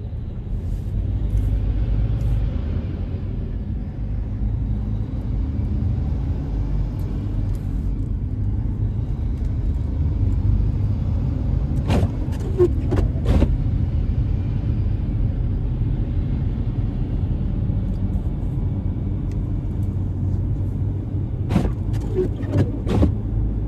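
A car cruises a snowy road alongside large trucks, a steady low road rumble throughout with a few sharp clicks and knocks over it, no voices.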